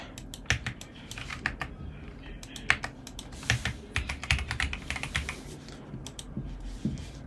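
Computer keyboard keys pressed in irregular bursts of close, crisp clicks, some single taps and some quick runs, with no voices.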